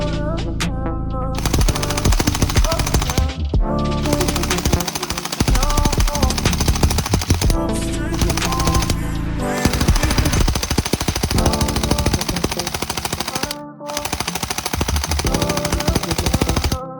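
A Ren Xiang AK102 gel blaster with electric blowback fires in long full-auto bursts, a loud, rapid mechanical rattle-and-clack repeated up close, with short pauses between strings of shots.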